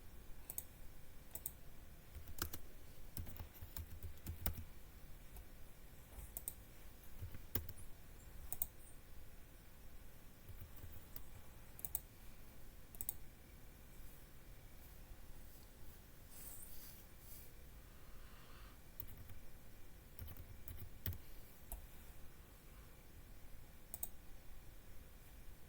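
Scattered computer mouse clicks and light keyboard taps while an online application form is filled in, faint and irregular over a quiet room hum, with no talking.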